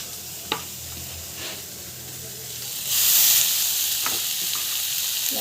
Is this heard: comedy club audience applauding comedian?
no